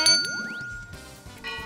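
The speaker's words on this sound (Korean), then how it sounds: "드디어 골든벨이 울렸습니다." A bright quiz-show golden bell ding with a rising sweep, followed by short tinkling jingle accents; brief and fairly loud with no talking.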